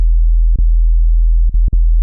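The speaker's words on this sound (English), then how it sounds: "that's just a sine wave" Plain sine-wave bass synth patch from Serum 2, a steady low hum held throughout with three brief dips where notes retrigger, clean and loud with no harmonics above it.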